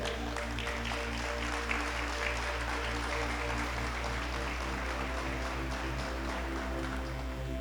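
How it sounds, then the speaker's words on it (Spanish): Sustained applause from a crowd, dense and steady for the whole stretch without pause. "Dale un aplauso al Señor."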